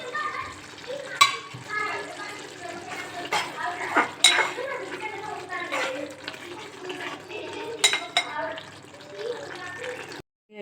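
Fried paneer cubes are tipped into a sizzling masala curry and stirred. Spoon scrapes and wet splashes come in irregular bursts over a steady low sizzle, with a voice talking in the background.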